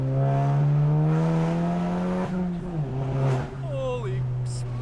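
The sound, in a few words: loud VW Mk7 GTI engine revving on twisty road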